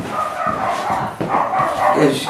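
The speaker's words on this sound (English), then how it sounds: "That is major attack dog, by the way." A dog barks and yips in short bursts while people talk over it nearby, the barking mixed with and partly masked by the voices.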